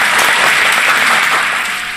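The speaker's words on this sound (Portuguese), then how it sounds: "Só uma salva de palmas para o inventor do micro-ondas." Audience applause with steady clapping from many hands, fairly loud and close, fading slightly toward the end.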